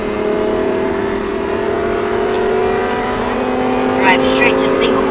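A Lamborghini Huracan accelerates on a Speed Vegas track. A loud, close engine roar climbs slowly and steadily under an instructor's continuous coaching.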